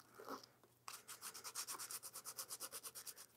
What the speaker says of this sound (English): I'll get some sandpaper and just sort of smooth up the edges a bit